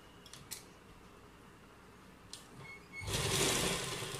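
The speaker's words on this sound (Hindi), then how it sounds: "अब हम दूसरी साइड की सिलाई भी इसी तरह लगा" A sewing machine runs in one steady, fairly loud burst during the last second or so while stitching the side seam of a kurta, after a quiet stretch with a few faint clicks.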